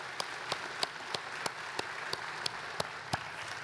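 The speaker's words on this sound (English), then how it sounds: "yeah, we can clap to that" Audience in a university hall at a State of the University address claps in a slow, sparse rhythm; about ten distinct claps, evenly spaced and moderately quiet, with no other sound between them.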